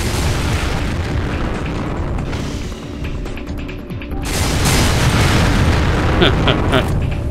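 A shot object blows up in the video game Gun Metal, with a loud, sustained rumbling boom and crackling debris that swells midway and holds, with a voice talking over it.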